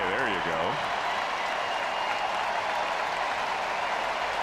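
Baseball stadium crowd applauding Shane Bieber's 1,000th career strikeout, a broad continuous wash of distant clapping and crowd noise with a commentator talking over the start.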